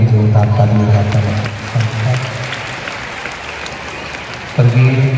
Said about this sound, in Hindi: एक बार उनके लिए भी जोरदार ताली बजाकर